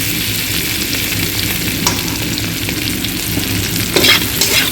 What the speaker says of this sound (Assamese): ভাত কেৰেলা আৰু এই লোকেল আলুটো এনেদৰে ভাজিছোঁ।